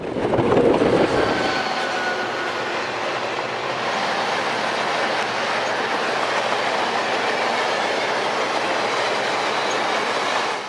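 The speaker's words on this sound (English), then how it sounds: "an ABA set of ALCO PAs head west with San Francisco Chief Train Number 1" A westbound San Francisco Chief passenger train hauled by an ABA set of ALCO PA diesel locomotives, with two flat cars of containerized mail, rolls steadily past, its continuous rumble and wheel clatter loud and close throughout.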